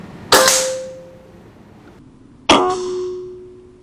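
Two sharp shots from a Bulldog OD 38 V2 PCP air rifle with Canon Hercules pellets, fired at a target 20 meters away. Each shot lands as a crisp metallic clang that rings briefly, the two about two seconds apart.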